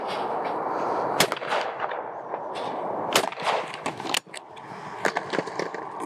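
An ATA shotgun fires at Rabbit Mania clay targets on an outdoor shooting ground: several sharp, loud reports at irregular intervals, one a pair of quick shots, over steady wind-like background noise.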